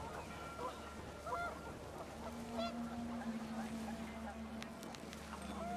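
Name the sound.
panicked geese honking in the video game What Remains of Edith Finch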